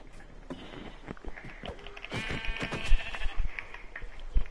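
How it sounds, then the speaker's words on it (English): Sheep bleating in the Minecraft video game, a few game bleats standing out over a busy mix of clicks, thumps and other game noise. "I killed the sheep."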